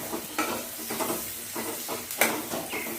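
Cubed onions sizzle in a hot pan while being stirred, a steady close frying hiss broken by scraping stir strokes.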